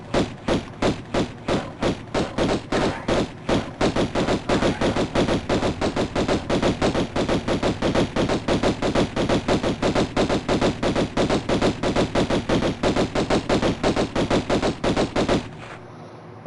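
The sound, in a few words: Lara Croft shooting pistols in Tomb Raider 1 Remaster video game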